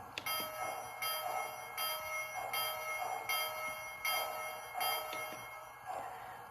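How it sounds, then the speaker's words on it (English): A toy Lionchief Chesapeake and Ohio steam locomotive bell clangs in a slow, steady rhythm, roughly once every three-quarters of a second, ringing bright and fairly close with no talking. "Next, here's the bell."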